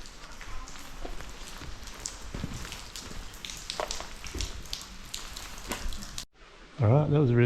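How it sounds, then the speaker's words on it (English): Heavy rain pounds down steadily at an abandoned Soviet sanatorium town in Tskaltubo, Georgia, a dense loud hiss scattered with sharper drips and spatters. It cuts off abruptly near the end and a different, tonal sound follows. "And now it's bucketing down with rain"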